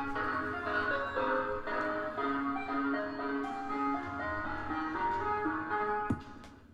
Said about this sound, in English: You'd be seeking help too if this Yankee Doodle was blaring outside your window in the darkness of night